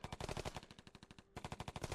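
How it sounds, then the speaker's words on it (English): Rapid automatic gunfire bursts in a crowded plaza in the Piofiore video game, a dense rattling string of sharp shots with a brief pause near the end before the firing resumes, quiet overall and without voices. "Gunshots suddenly resounded through the plaza."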